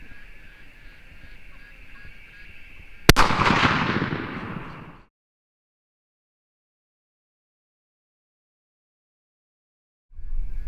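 A single loud rifle shot at an outdoor range while sighting in the rifle, a sharp crack with a rumbling tail that fades over about two seconds before quiet.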